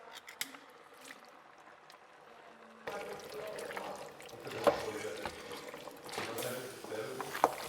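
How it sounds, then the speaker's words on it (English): Half a liter of coconut milk pours into a pot of vegetarian palak potato, a low continuous liquid rush with small clinks, close and moderately quiet, with a voice talking over it. "And we will add half a liter of coconut milk."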